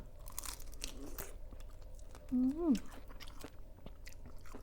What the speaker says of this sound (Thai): กุ้งตัวใหญ่ค่ะกินสองสามตัวก็อิ่มเลยจ้ะ